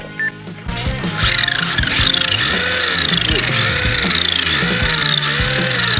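A modified pickup truck's engine revs hard during a test, a loud close roar with wailing, rising and falling pitch and tire-squeal-like sweeps, steady throughout.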